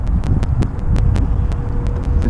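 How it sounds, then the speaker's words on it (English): A blustery southwesterly wind buffets the microphone on a Pensacola fishing outing, a loud low rumble with gusty bursts across the whole stretch and no voices. "A bit windy, southwesterly blowing."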